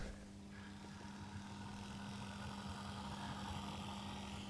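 A small model locomotive motor running rough drones steadily with an uneven, tractor-like hum, quiet and continuous throughout, with no talking.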